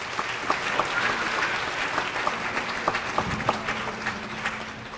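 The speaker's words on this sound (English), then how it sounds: "If we could have a round of applause for Mr." Audience at a school jazz and community band concert applauds, a steady moderate wash of clapping with a few sharper individual claps standing out.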